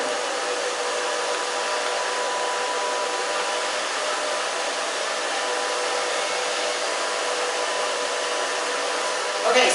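A hair dryer blows steadily and loudly up close while drying grey hair during a haircut, a constant even whoosh with no talking over it.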